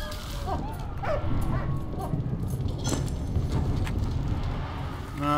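A dog in the video game Valiant Hearts: The Great War gives several short yips and whimpering barks over steady background game music and ambience, moderately close.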